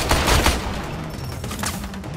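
Rapid bursts of gunfire from the video game Warframe crackle over a dense, noisy background, loud and continuous for a couple of seconds.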